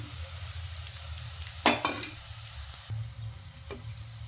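Chili, turmeric, asafoetida and fenugreek powders stirred into hot oil for a traditional Kerala lemon pickle, with a faint steady sizzle and one sharp scrape of the spoon against the pan midway.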